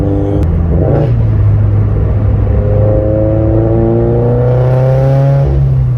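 A loud, deep exhaust rumble from a turbocharged Subaru BRZ with a Tomei 80R exhaust, idling and gently revving, with a steady burbling drone throughout.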